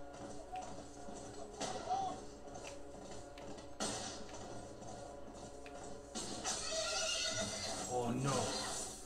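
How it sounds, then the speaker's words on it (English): A horse in the video game The Last of Us on PlayStation 3 gives whinnying calls in a winter setting, mixed with scattered hoof clops and taps amid busy game sound and a talking voice. "Fastest horse in all of Utah."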